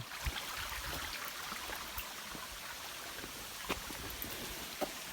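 Water from the Jim Yai waterfall stream near Ban Khao Phluang, Bueng Sam Phan, Phetchabun, rushes in a continuous broadband hiss, with a few faint clicks and no voices.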